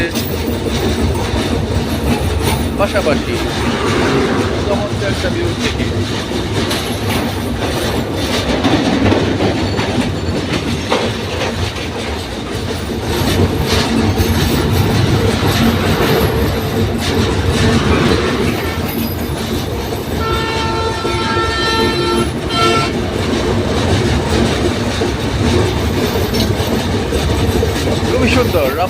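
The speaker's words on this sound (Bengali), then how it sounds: "ট্রেন যাচ্ছে" A train rumbles across the Jamuna multipurpose bridge at night, a steady loud roar of wheels and cars with clickety-clack and a squeal later on, while someone talks over it.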